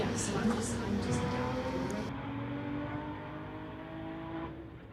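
A 1993 Toyota and an Audi drag race down a street-legal strip, distant engines droning and revving under a commentator's talk.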